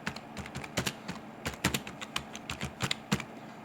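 Quick, irregular clicks of fingers typing on a computer keyboard, close and fairly quiet, with bursts of keystrokes and short pauses between them.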